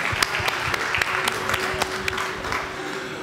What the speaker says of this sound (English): We'll just have a round of applause for everyone for their last breakout session.